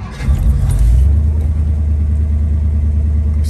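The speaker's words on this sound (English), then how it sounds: "Okay, we'll start up Thunderbird." A 1959 Ford Thunderbird convertible engine turns over and settles into a steady low idle, close and loud, after a brief start.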